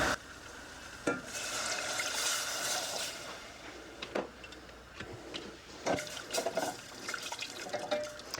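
Milk poured slowly into a cooking pot on the stove, a steady close liquid stream with sizzling and splashing, followed by scattered stirring clinks and scrapes.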